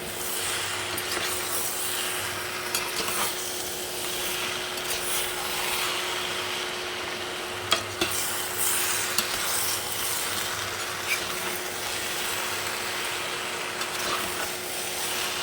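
Cauliflower and potatoes are tossed into hot fried masala in a pan, giving a steady low sizzle with scraping, rubbing stirs and a couple of sharp clinks near the middle.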